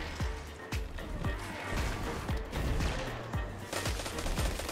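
Gunfire rings out in a Destiny 2 PvP match, repeated close, punchy shots in a loose rhythm, some in quick pairs, over a busy game background.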